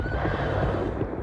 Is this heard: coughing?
no